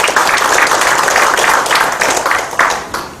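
Loud, dense audience applause fills a hall at a national Democratic Party farmers' and fishers' committee launch rally, holding strong for about three seconds before starting to fade.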